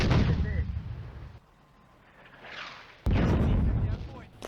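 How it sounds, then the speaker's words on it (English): Soviet artillery fires in the World War II game Firefight on the Eastern Front at Zuyevka, heavy booming blasts with a loud burst, a quieter lull, then another strong rumbling salvo. "Soviet artillery fires again."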